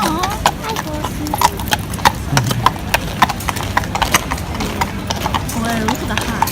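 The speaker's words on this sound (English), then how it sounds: "Aww, hi, horses." Several horses clip-clopping on pavement near Buckingham Palace during the guard change, with crisp, fairly regular hoof strikes passing close by amid crowd chatter and people talking.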